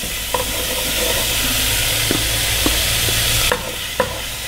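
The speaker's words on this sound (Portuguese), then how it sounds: "vou fritar aqui o bacon" Chopped bacon frying in pork lard in a pan for bean and pasta soup, with a constant loud sizzle and a few soft clinks and scrapes of stirring on top.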